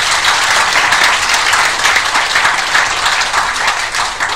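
A crowd at a university graduation ceremony applauds steadily, dense and loud clapping filling the whole moment without pause.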